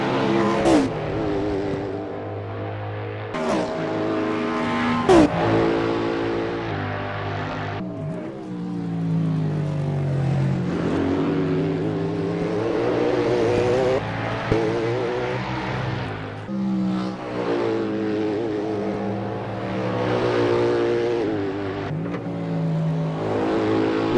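LMDh hybrid prototype race cars warming up at the Road America circuit in Assetto Corsa, engines droning steadily with rising and falling revs and occasional gear shifts, loud and continuous.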